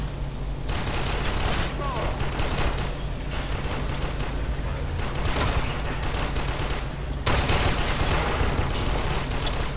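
Dense, sustained gunfire from the sci-fi shooter game Warframe fills the mix as a loud, continuous rattle of weapons and explosions, with a few brief lulls.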